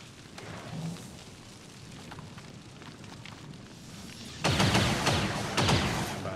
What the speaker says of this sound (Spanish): Recibiendo tiros.